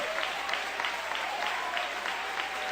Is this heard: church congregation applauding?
yes